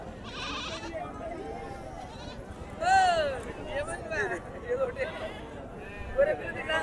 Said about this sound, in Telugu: ఒక ఐదారు మేకలు పెద్ద మేకలు ఉన్నాయి ఇందులో మిగతా అన్ని మీడియం సైజు ఉన్నాయి